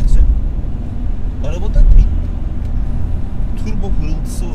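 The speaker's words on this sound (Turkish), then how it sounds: "Arabada bir turbo pırıltısı var." Steady engine drone inside a Renault Symbol with the 1.5 dCi 90 hp diesel, a thin high whistle from the turbo drifting above the rumble at close range throughout.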